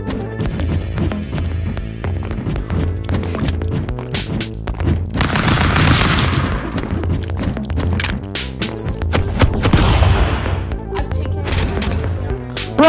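Gunfire from the stick-figure brawler game Stick Fight, with rapid volleys of shots and clattering impacts running continuously under busy in-game action, loudest in bursts around the middle and near the end.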